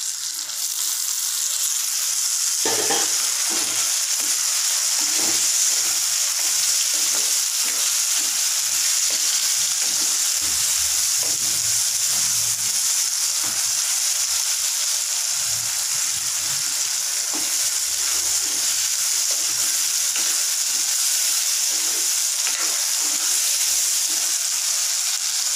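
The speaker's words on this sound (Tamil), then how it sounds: "இப்போ நறுக்கி வச்சுருக்க தக்காளி பழத்தில் சேர்த்துருவோம்." Chopped tomatoes sizzle steadily in a pan with onion, garlic and curry leaves for a South Indian kuzhambu, a constant loud frying hiss with soft intermittent stirring scrapes and no talking.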